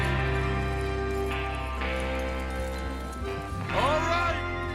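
Horses trot with steady clip-clopping hooves in the video game Red Dead Redemption 2, beneath a thick layer of music and voices, the hoofbeats partly buried in the mix.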